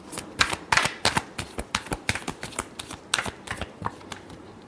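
Close, steady shuffling of a tarot deck, a quick run of crisp papery flicks and taps in an uneven rhythm with no talking.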